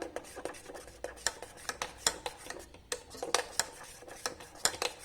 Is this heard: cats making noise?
no